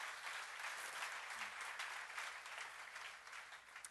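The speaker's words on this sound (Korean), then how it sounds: "박수로 맞으세요." A Korean church audience at a Psalms Bible study applauds, a faint, distant, continuous wash of many hands clapping that holds steady for a few seconds.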